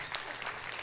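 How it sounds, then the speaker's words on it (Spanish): A short burst of applause from a comedy show studio audience, dense steady clapping throughout. "Fuerte el aplauso"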